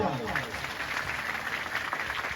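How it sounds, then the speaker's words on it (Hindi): Dense, continuous applause from a crowd at the closing of a Bhagwat recitation, with a voice faintly underneath, sustained and even throughout. "जोरदार ताली बजाओ।"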